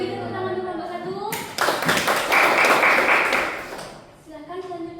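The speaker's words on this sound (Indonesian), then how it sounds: "Beri tepuk tangan dulu nomor 1." Brief clapping from a classroom audience for the first presenter in a teaching-skills session, a short burst of hands that rises quickly and fades, framed by talking before and after.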